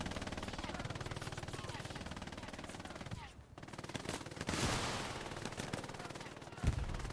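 Machine gun fire in a military shooter game, rapid dense bursts of automatic shots rattling continuously, broken by a brief lull before heavier firing resumes.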